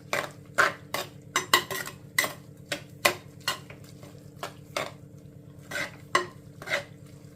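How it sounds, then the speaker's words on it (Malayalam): Mutton boti fry with curry leaves stirred in a pan, sharp rhythmic scrapes and clinks of a spoon against the metal pan roughly every half second over a faint low sizzle. "എന്നിട്ട് നമ്മൾ ഇളക്കി കൊടുക്കണം."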